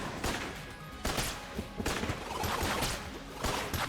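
Video game gunfire in Enter the Gungeon, dense bursts of rapid shots in repeated volleys with crashes and thuds, loud and continuous throughout, no talking.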